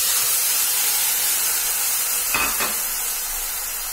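Instant noodles tipped back into a hot pan give a steady sizzling hiss, with a brief louder burst of frying as they land, close and alone with no talking.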